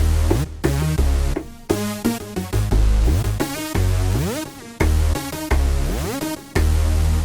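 A loud mono synthesizer plays a bright, buzzy melodic line with glide, notes sliding smoothly up and down into one another, punctuated by short gaps.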